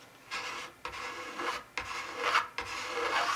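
A rasp works a wooden instrument body in long, close strokes, four or five rasping passes with brief pauses between them and no voices.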